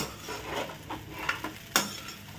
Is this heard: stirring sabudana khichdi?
yes